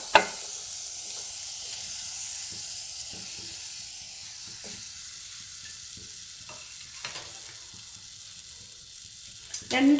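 Pineapple pieces for Kerala sadya-style pachadi dropped into a hot pan, an initial sharp sizzle settling into a steady soft frying hiss with faint stirring scrapes throughout, and a louder sizzle swelling at the end.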